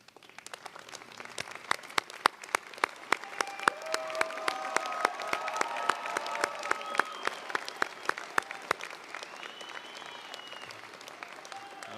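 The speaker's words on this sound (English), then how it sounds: "offer a round of applause for the people supporting you here this morning" A large crowd at a UC Merced fall 2023 STEM commencement ceremony applauds, with steady crisp claps that swell over the first seconds, hold, then taper toward the end; a few faint voices sit beneath.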